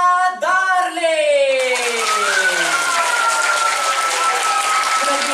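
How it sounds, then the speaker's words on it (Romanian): A children's audience at a cultural-day show breaks into loud, continuous applause that swells in after a sustained tonal voice or sound and carries steadily to the end. "vreau să o aplaudăm foarte,"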